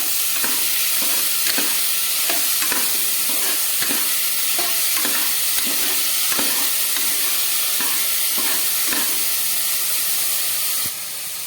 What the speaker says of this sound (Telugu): వేసుకొని ఒకసారి బాగా కలుపుతూ ఆనియన్స్ గోల్డెన్ కలర్ వచ్చే వరకు ఫ్రై చేసుకోవాలి.